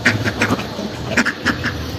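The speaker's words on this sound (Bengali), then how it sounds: "হাঁসগুলো কত কিউট করে ডাকতেছে" Several ducks quack nearby in quick, irregular bursts, a lively rasping chorus over faint background noise.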